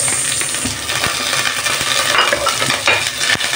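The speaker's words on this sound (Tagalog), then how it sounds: "Suin lang natin at palabasin ang aroma ng ating bawang at sibuyas" Garlic and onion sautéing in a pan for chicken nilaga: a close, loud sizzle under repeated scraping and tapping of a utensil against the pan as it is stirred, with no one talking.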